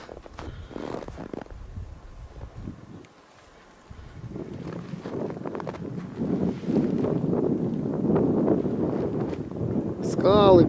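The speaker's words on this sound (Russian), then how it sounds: "Потом ветер поднялся." Wind blows outdoors on a snowy early morning near rocks along the Urkan, a steady low roar buffeting the microphone and growing stronger and louder toward the end.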